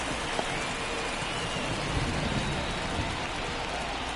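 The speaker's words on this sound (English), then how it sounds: "the field's not going to be able to hold up if the rain gets any worse than this" Steady rain hisses across the ballpark throughout in MLB 24 The Show, a dense continuous wash of falling water with no breaks, alongside faint crowd murmur.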